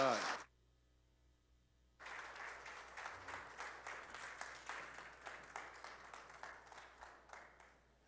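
A church congregation at a morning service breaks into applause after a brief quiet pause, with steady rhythmic clapping that holds at a moderate level throughout.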